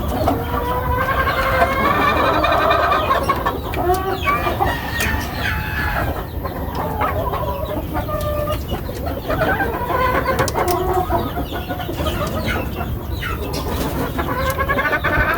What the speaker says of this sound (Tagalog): aking mga alagang manok